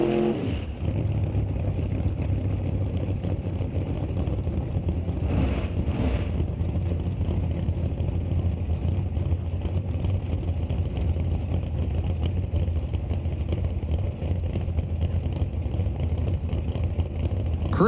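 Drag racing dragsters, including a 2016 car, sit staged side by side at the start line of a drag strip, engines idling loud and steady with a low rumbling drone that holds throughout, a brief swell near the start.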